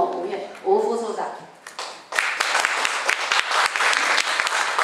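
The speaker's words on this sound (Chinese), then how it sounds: "谢谢，掌声鼓励" An audience at a formal event breaks into loud, dense clapping after a brief spoken announcement, the applause continuing steadily to the end.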